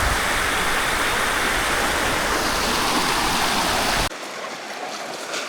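A river rushes beside an outdoor riverside eating spot, making a loud, steady wash of flowing water that cuts abruptly to a quieter, thinner stream sound near the end.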